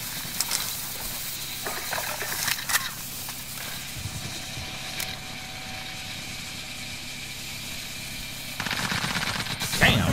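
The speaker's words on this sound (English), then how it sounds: "this a nail gun. Sound like a fucking machine gun." Rapid automatic gunfire from a nail gun in Call of Duty: Modern Warfare, with bursts of sharp repeated shots scattered through the clip and a louder burst near the end.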